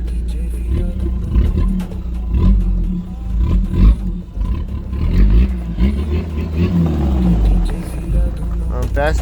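A rally car engine revs hard in repeated bursts, rising and falling with rough, close roaring and rattling, with voices talking over it.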